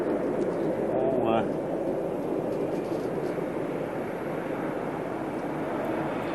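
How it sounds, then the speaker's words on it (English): Concorde's jet engines roar in reverse thrust while landing, a broad distant rumble under a presenter's commentary. "You can hear the reverse thrust coming through the studio."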